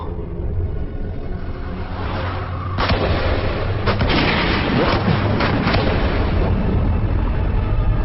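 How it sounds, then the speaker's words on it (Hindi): Gunfire breaks out inside a cave in a Hindi-dubbed adventure movie. Several loud bursts crack and rumble over a constant noisy background, clustering in the middle before the roar settles into a continuous din. "अरे गोली मत चलाओ, गुफा गिर सकती है।"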